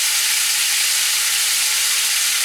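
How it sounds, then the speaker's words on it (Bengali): Jackfruit pieces fry in a hot pan with a loud, dense, continuous sizzle and hiss, close by, and no one speaking. "আমি এঁচোড়টা বেশ ভেজে নিয়েছি।"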